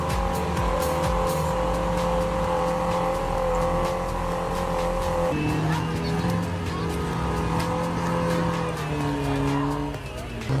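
A heavy tractor engine roars continuously at high revs while its wheels spin and slide in thick mud, a loud sustained drone with shifting pitch and scraping, squealing texture, no voices.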